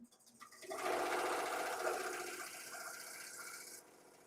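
A home embroidery machine stitching, a fast, even mechanical whirring hum that starts up, runs steadily and then stops, close and moderately loud with no speech.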